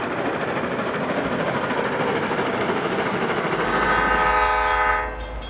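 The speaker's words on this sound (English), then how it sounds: "The Royal Hudson blasts through Nichols" The Royal Hudson steam locomotive blasts through Nichols toward Stockton, a loud, close rumble of passing railcars crowned near the end by a sustained, sharp whistle blast before the sound eases.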